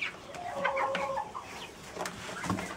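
Chickens cluck and murmur close by in a soft, irregular chatter, with occasional sharper clucks from several birds.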